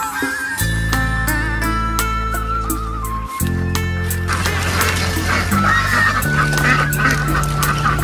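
Young ducks on a farm call loudly and continuously, a dense, close chorus of honking quacks with a steady drone underneath.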